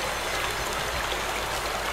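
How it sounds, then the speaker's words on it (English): Steady rushing water flowing through a hose network in the game Obduction, a constant broadband stream-like wash that holds an even level without pause. "Yes, this is the water coming from Hunrath"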